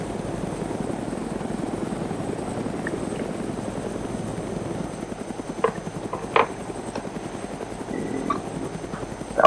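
Helicopter in a military video game flying steadily with a constant rotor thrum, joined by a few brief sharp clicks and thuds near the end, with no talk.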